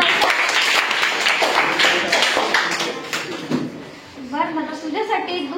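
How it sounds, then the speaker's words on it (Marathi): Primary schoolchildren clap together in a quick, loud burst during a school quiz, the applause fading into scattered claps as voices take over. "आविष्कारासाठी सगळ्यांनी टाळ्या वाजवायच्या."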